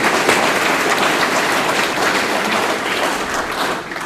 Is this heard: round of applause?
yes